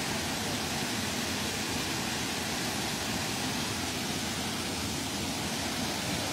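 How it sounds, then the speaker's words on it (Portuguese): Cachoeira de Santana, a waterfall almost inside the city of São Carlos, São Paulo, gives a steady, dense roar of falling water with no breaks across the whole stretch. "Essa aqui é a Cachoeira de Santana."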